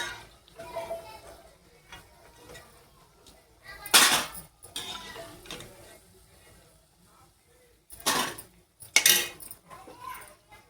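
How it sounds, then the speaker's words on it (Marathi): Fried taro-leaf bhaji are lifted from a pan onto a plate, with a few sharp metal-on-metal clinks and scrapes of a utensil between quiet stretches, close and fairly loud. "आता प्लेटमध्ये काढूया."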